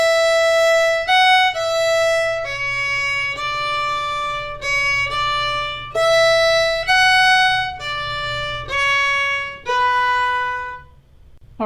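A fiddle plays the first ending of the B section of the tune Golden Slippers, a loud, clear run of bowed notes in a steady rhythm, played alone and fading out at the end.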